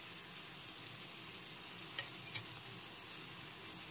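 Vegetables with spices being stirred in a frying pan for a Bengali amaranth greens and fish head chorchori, a faint steady sizzle with soft scraping, a couple of brief clinks near the end.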